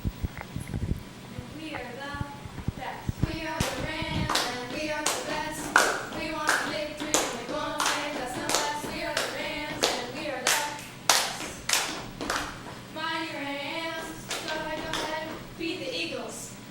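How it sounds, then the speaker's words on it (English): A group of girls performs a cheer, sharp rhythmic hand claps punctuating chanted voices in a lively outdoor sports setting, loud and close throughout. "All right, they're going to cheer."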